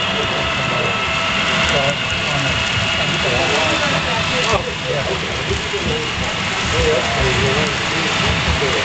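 Steady rain pours beside an idling train engine on a rail yard, a dense continuous hiss with a low rumble underneath and scattered faint knocks, holding at an even, fairly loud level throughout.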